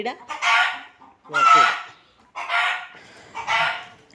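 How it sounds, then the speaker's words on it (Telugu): Chickens call at a rural farm where cows are kept, giving four loud, close crowing and squawking calls in a steady rhythm with short pauses between them. "ఆ కోళ్ళు ఒర్రుతూనే ఉన్నాయి"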